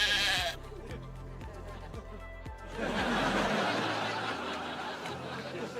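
A sheep bleats in a sitcom scene from Drake and Josh, giving a few wavering cries up close, followed by a studio audience laughing loudly.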